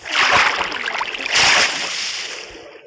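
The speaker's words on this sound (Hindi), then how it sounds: "पानी" Water splashes in the video game Minecraft in two broad, hissing bursts, loud and close, with a churning wash trailing between and after them.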